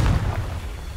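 An explosive spell blast in the Hogwarts Legacy video game, one short loud booming burst at the start that fades into a low rumble.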